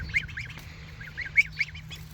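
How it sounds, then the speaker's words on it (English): Backyard ducks give a series of nasal quacks and honks, several short calls in loose bursts at moderate distance over a low steady hum. "I'm sure some of these ducks will want some too."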